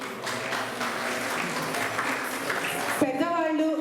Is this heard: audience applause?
yes